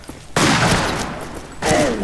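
Loud, close gunfire from the Wild West shooter game Fistful of Frags: two bursts of rapid shots, the first lasting over a second and the second starting just before the end.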